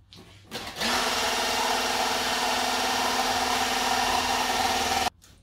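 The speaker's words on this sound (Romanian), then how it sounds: "În continuare vom bate frișca cu un mixer." An electric hand mixer whips cream for a fruit cake, starting after a short click and whirring steadily and loudly for about four seconds before cutting off abruptly.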